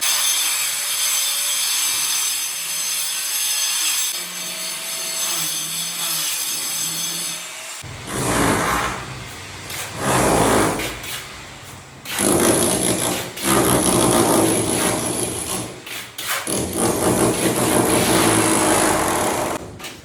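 Demolition during renovation of a leaking first-floor bathroom: loud, close grinding and sawing-like tool noise, with a steady whine at first, then surging scraping bursts, heard alone.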